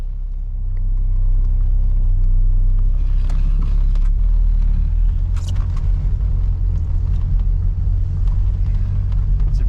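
Inside a moving Yugo car at a car show field, a deep, steady engine and road rumble fills the cabin, with faint rattles and knocks over the drone and no talking.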